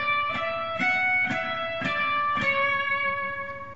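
A run of eight quick 32nd notes from Pachelbel's Canon in D on electric guitar with a distorted, effected tone, evenly spaced plucked attacks blending into a sustained ringing chord.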